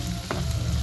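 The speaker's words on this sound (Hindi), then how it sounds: "अब हम इसमें डाल देंगे प्याज। फिर इसे अच्छे से फ्राई कर लेंगे।" Onion frying in hot oil in a frying pan for keema, a dense close sizzle with a brief stir.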